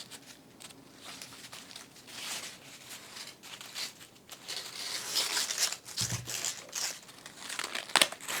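Paper folded and crinkled by hand while making a snowman piñata, a close, continuous run of rustling and crumpling with a few sharper crackles and no voices.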